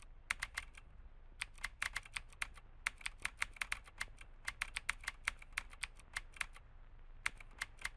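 Quick, uneven bursts of keystrokes come from a computer keyboard while typing into a console during a horror video game, the close, crisp clicks running in fast clusters with short pauses between them and no voices.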